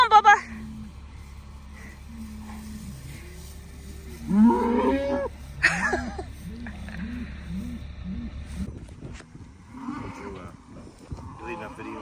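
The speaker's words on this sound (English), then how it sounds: "Today we've got some cows that need to be darted." Farm cows lowing in a series of deep, drawn-out moos, some near and some farther off, with a person talking over and between them.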